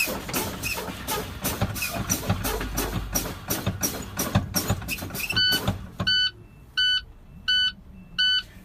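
Rhythmic brake-pedal pumping clicks and air hiss inside a truck cab give way to the low air pressure warning buzzer at about 60 psi, five evenly spaced beeps, close and clear.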